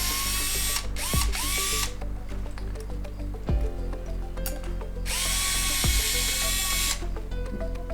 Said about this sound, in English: So I'm gonna simply remove these 2 screws.